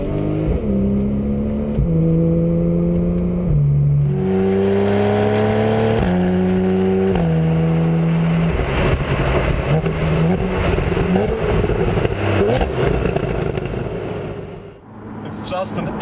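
Flat-six engine of a 2012/2013 Porsche Carrera S with the PDK dual-clutch gearbox, revving up through several quick shifts with a rising, falling tone, loud and close throughout the drive.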